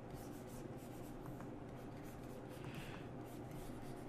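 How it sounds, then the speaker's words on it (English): A pencil sketches over paper in a quick character-design drawing, steady close scratching and rubbing strokes running continuously under a faint background hiss, with no talking. "we're just sketching over top of it"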